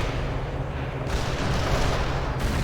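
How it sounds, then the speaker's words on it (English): A burst of loud launch and blast noise from an AT-4 rocket fired at a target in the war game World in Conflict, a dense roar swelling midway and holding to the end, with no talk. "Launching AT-4 at the target."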